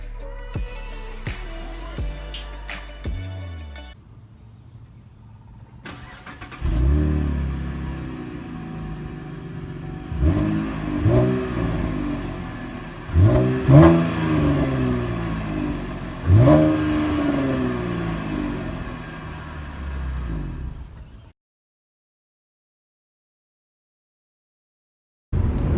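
A 2013 Camaro RS V6 accelerating, the engine climbing through several revving pulls with gear changes and a deep throaty rumble, heard close and loud, then cutting out to silence.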